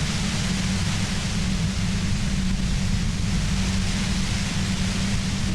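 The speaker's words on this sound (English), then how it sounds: "You hear through the white noise. It's especially bad suddenly." A steady wash of white noise in Disco Elysium, even and unbroken with a low droning hum beneath, continuing alone without change.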